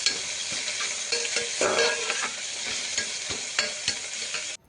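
Sliced vegetables, including onion, fry in a pan while a spoon stirs and scrapes them in uneven strokes over a steady close sizzle, cutting off abruptly at the end; nobody speaks.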